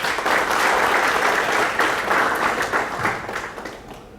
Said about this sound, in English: A warm round of applause as I welcome all our distinguished panelists on the stage.